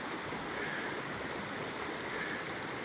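Creek water flows steadily near a storm-damaged road crossing after Hurricane Hilary, a loud, constant broadband rush with no pauses.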